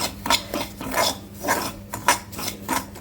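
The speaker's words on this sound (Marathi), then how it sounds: "आता या रव्यामध्ये मी थोडंसं तूप घालणार आहे एखादा चमचा आणि मिक्स करून घेऊया" A spoon stirs ghee into semolina in a pot, giving rhythmic scraping and rubbing strokes, about six close, moderately loud passes with no voices.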